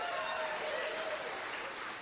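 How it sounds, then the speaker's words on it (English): Quiet, steady applause from an audience at a Pinellas County communications event, a soft even patter of clapping with voices faintly mixed in. "Come on, give her a round of applause."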